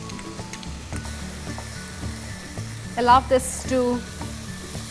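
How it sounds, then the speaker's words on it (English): Soy sauce and red chili sauce sizzle and fry in a hot pan with eggplant for an Indo-Chinese Szechuan ginger dish, a steady close crackle with stirring scrapes as someone speaks briefly. "fry for another few seconds, say 20 seconds"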